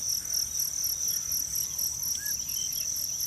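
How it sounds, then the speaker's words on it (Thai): Crickets chirp in a steady high-pitched trill in a rice field in the morning, with a second pulsing chirp layered above, continuous and fairly close, with no talking. "แต่ว่าที่เราได้ยินชัด ๆ ตอนนี้ก็คือจะเป็นเสียงจิ้งหรีดใช่ไหม"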